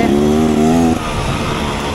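A 2024 Beta Xtrainer motorcycle ridden off-road over rocky stream channels gives a loud engine note that drops sharply after about a second. A rougher, lower running sound follows.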